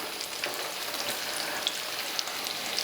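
Ripe plantain slices frying in oil: a steady, close, dense crackling sizzle with a few sharper pops, continuous throughout and free of voices.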